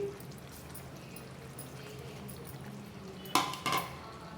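Cut potato pieces tumble into a cooking pot for potato kurma, two quick clattering thuds near the end over a faint background hiss.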